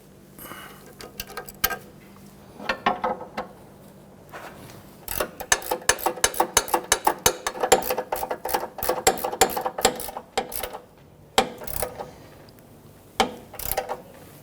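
A ratchet tightens a sway bar link nut on a 2007-2017 Jeep Patriot front suspension, giving bursts of rapid close clicking in several runs with short pauses between them.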